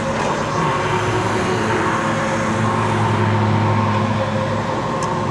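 Knobby off-road tires on a Troxus LynxPlus electric bike rolling along a road, a steady loud droning hum and whir with no break.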